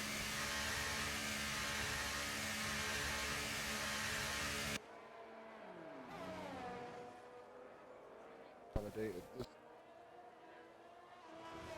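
A Ferrari race car's engine drones loud and steady for several seconds in a racing game, then cuts away to quieter, distant engine tones and a few brief bursts.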